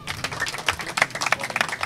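A studio audience at a school quiz show in Maroua applauds the Nimiers team, a dense patter of many hands clapping at moderate volume, short and continuous with no talking.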